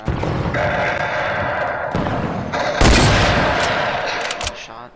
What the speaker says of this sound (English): There's a warning shot.